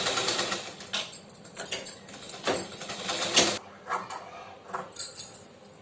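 A sewing machine stitching a seam on a lined blouse, close up, running in short irregular bursts of rattling mechanical chatter that rise and fall over several seconds.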